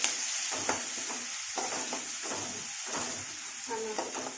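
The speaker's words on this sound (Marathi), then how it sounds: "तेल चांगलंच टाकलेलं आहे हिरवी मिरची टाकून घेते त्याच्यात हिरवी मिरची" Green chillies frying in plenty of hot oil for a garlic fenugreek dish, a close hiss and sizzle with brief stirring scrapes, steady throughout.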